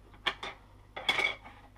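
Winchester small pistol primers are poured from their box into a primer tray, making two quick bursts of light metallic clinking and rattling, close and quiet, with no talk.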